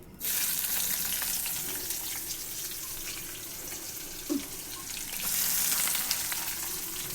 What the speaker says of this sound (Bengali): আর এখন পেঁয়াজটা বেরেস্তা করবো আগে।